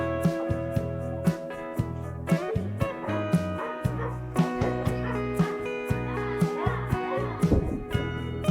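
Several farm dogs bark in quick, repeated yaps and yips close by on a goat farm, with excited barks coming in bursts throughout and children's voices mixed in.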